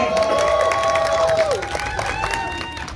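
An audience applauds and cheers for content creator Monica Raja Lele on an Indonesian talk show, a steady crowd roar with shouts and whistles throughout, fairly close and loud.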